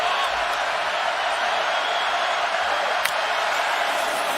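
Distant stadium crowd at a Fiesta Bowl college football game, Clemson versus Ohio State, a steady broad roar of cheering fans, even and sustained throughout.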